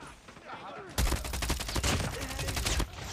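A Kilo 141 assault rifle in Call of Duty Mobile fires a continuous rapid automatic burst of about two seconds, loud and close, after a short stretch of quieter game ambience.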